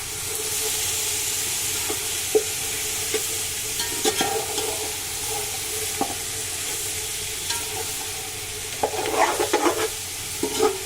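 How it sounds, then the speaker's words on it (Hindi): Whole cumin and crushed black pepper sizzle and fry in a pot for Kabuli pulao under a constant hiss, with scattered clinks and scrapes from stirring that grow busier toward the end. "और इसमें साबुत जीरा ऐड कर रहे हैं और कुटी हुई काली मिर्च। सबको अच्छे से मिक्स कर लेंगे।"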